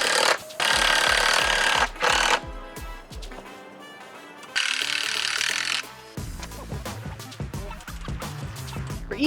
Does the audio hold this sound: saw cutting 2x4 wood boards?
yes